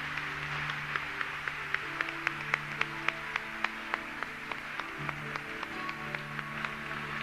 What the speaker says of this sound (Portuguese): Você pode aplaudir com toda alegria o Santo Evangelho.